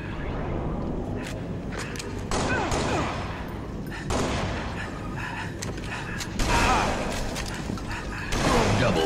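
Shotgun fire in the Halo video game, several loud booming blasts at irregular intervals over busy game noise, with game announcer voices heard.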